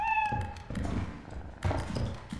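In the video game Lethal Company, a cat meows at the start, followed by scattered thumps and taps from gameplay, with no talk.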